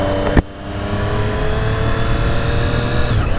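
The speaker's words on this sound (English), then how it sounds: "The engine note is nice and mellow, but you get that characteristic tripleness." A 2018 Triumph Street Triple RS three-cylinder motorcycle engine pulls steadily while riding, a loud, sustained mellow drone with a brief sharp click near the start.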